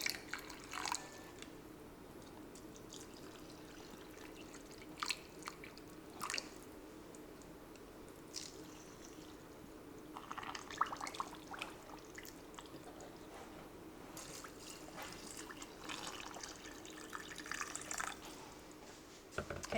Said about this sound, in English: now we're going to fill it up with hot water, and we're going to leave 1 inch headspace.